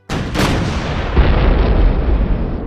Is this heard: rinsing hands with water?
no